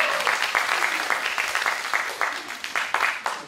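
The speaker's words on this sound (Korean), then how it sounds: "앞서 배우분들이 오실 때마다 열렬하게 정말 박수를 쳐주셨습니다." Enthusiastic applause from an audience greeting actors as they arrive at a drama press conference, a dense, steady wash of clapping with bursts of sharper claps, fairly close and continuous, no talking.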